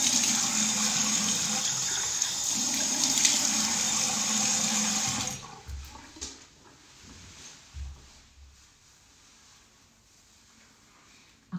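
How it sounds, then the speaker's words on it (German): Water running from a tap during face washing, a steady loud gush for about five seconds, then cut off, leaving faint splashes and handling noises. "So, jetzt noch einmal Gesicht waschen."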